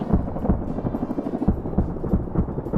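Mi-24 helicopter in a PvP video game match, its rotor thumping in a steady low rhythmic pulse, loud and close with a rumbling wash underneath and no talk.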